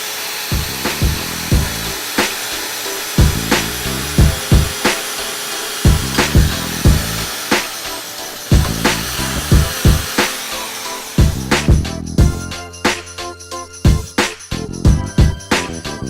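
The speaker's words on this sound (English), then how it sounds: "So I'll get to drilling that, and that should go nice and smooth." A power drill bores into a piece for the lights on a tiny house trailer, loud and close, in repeated rhythmic bursts of whirring that grow harsher toward the end, with no one speaking.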